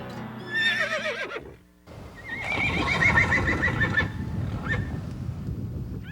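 A horse on a Hawaiian cattle ranch whinnies loudly with a shrill, wavering call, then after a brief pause neighs again, more drawn out, over a rough low rumble.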